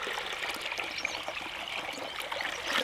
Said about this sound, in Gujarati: હવે મિત્રો આપણા જે શાકભાજી છે એને સારી રીતે